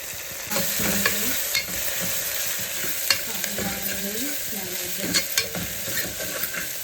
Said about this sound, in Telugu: ఇది కొంచెం పచ్చివాసన పోయే వరకు మనం ఫ్రై చేసుకోవాలి.